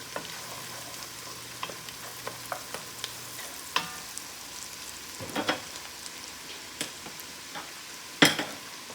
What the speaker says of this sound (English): I'm trying to brown the butter, not burn the butter